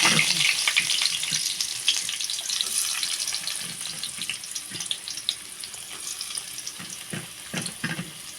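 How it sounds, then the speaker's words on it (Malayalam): Onion and garlic fry in a pan with a close, hissing sizzle and scattered crackles, fading slightly over the stretch, with no talking. "ഉള്ളി വെളുത്തുള്ളിയും കൂടെ ഇട്ടിട്ട് മൂപ്പിക്കാം"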